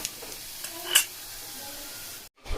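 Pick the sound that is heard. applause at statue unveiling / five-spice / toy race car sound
five-spice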